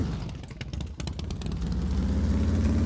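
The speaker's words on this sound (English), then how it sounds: "My motorcycle skill is only basic. So that's probably why it stalls and kind of sounds bad" Motorcycle engine in the survival game SCUM, stalling and running rough at basic rider skill, with an uneven low rumble that steadies into a continuous drone, fairly loud and close with no talking.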